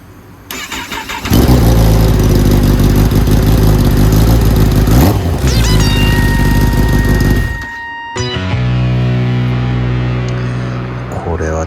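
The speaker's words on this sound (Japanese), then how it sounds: "ちょっとエンジンかけてみようと思います" A car engine cranks and fires into a loud, steady idle with a higher whine, then dips briefly and settles back into a rumbling run, close by with no talking.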